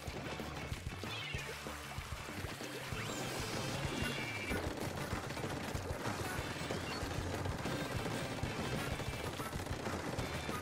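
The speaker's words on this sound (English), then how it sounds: "A lot of people using Gatling this game." Sustained Gatling gun fire in a Nintendo Switch game: a dense, continuous rattle of shots mixed with crashing impacts, steady and fairly quiet throughout.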